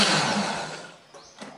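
Electric blender whirring loudly as it grinds a wet spice paste of curly red chili, turmeric, shallot, garlic and candlenut, then winding down to quieter bumps and clatter near the end.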